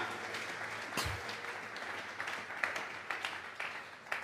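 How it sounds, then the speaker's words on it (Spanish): Church congregation giving an offering of applause to God during an evening service, a moderate, fairly distant round of clapping with scattered sharper claps and faint voices mixed in. "Vamos a regalarle ofrenda de palmas al Dios de la gloria."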